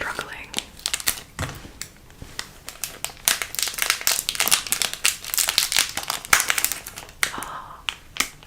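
Scissors snipping open crinkly plastic wrapping on mochi ice cream, close and loud: rapid crackling rustles and sharp snips, with soft whispered talk between them.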